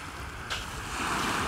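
Surf on an Azov Sea beach after a strong storm: a steady wash of waves rolling in, with a brief surge partway through and a fuller roar near the end, mixed with wind noise.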